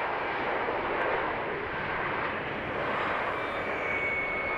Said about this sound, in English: the A321neo XLR touches down safely